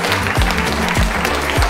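Steady audience applause at an eloquence contest final in Troyes, dense and loud, with many hands clapping together throughout.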